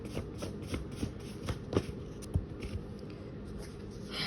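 A deck of tarot cards being shuffled by hand, a steady run of soft, papery riffles and flicks close up, with a quiet, even rhythm and no talking.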